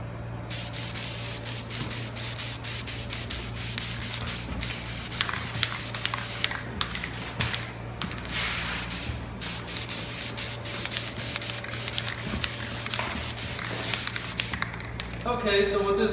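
Aerosol spray paint hissing as a coat of silver chrome paint goes onto a 1970-72 Chevelle AC dash side vent, in repeated bursts over a steady background hum, with someone talking intermittently.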